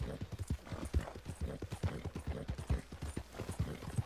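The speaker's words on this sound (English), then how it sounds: "Just calm down, horses." Rapid, irregular video-game hoof clip-clops from several horses walking close by, a busy clattering rhythm with a faint hum underneath.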